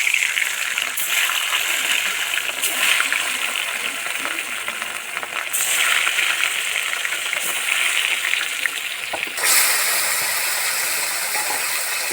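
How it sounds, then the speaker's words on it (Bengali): Hilsa fish pieces frying in hot oil, a steady loud sizzle running throughout with occasional crackles and a brief stir or clatter near the end, no voices. "মাছগুলো ভেজে নেবো"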